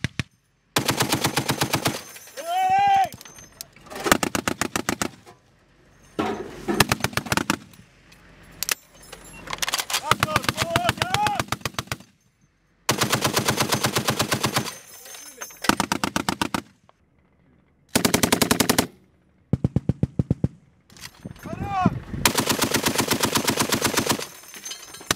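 .50 caliber machine gun mounted on a Humvee fires in long, loud bursts separated by silent gaps, with shouted voices between bursts.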